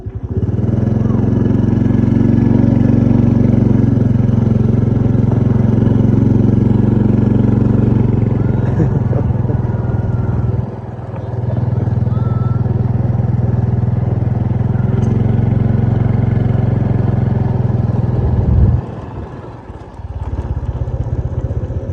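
A motorcycle engine idles steadily at close range with a low, even rumble, dipping briefly partway through and dropping away near the end.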